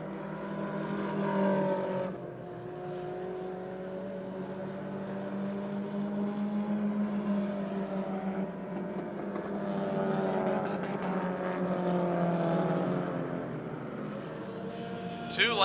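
Race cars lapping a short Motordrome Speedway oval during a late model event, their engines droning steadily with rising and falling pitch as they pass, loud and continuous under a race announcer's commentary.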